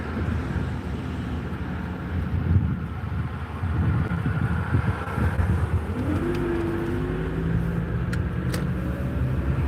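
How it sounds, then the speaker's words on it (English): A big truck rumbles past, a low engine drone that swells and holds under steady wind buffeting on the microphone, with no voices. "Big old truck."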